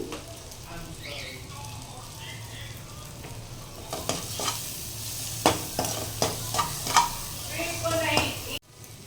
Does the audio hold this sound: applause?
no